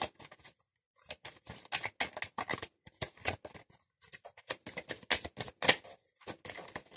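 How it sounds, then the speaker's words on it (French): Tarot cards shuffled by hand give bursts of quick, crisp flicking and riffling clicks, broken by short silent pauses, close and clear with no talking. "Une carte est tombée."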